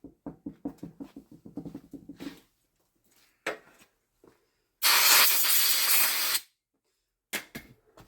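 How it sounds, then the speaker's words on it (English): Brake cleaner sprays in a single loud, steady hiss lasting about a second and a half while cleaning Husqvarna Automower wheel motor parts, with scattered clicks and handling noises before and after it. "And you can do some brake cleaning."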